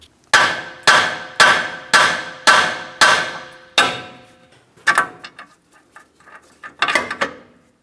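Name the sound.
hammer tapping on tie rod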